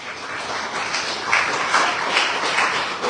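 Audience applause at a live magic and mentalism stage performance, a steady round of many people clapping that swells slightly and holds at moderate loudness.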